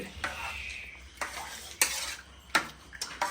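A utensil stirs cooked beef and rice for beef mandi in a cooker, with close, repeated scraping strokes against the pot roughly every second, plus soft clinks and a low sizzle underneath and no voices.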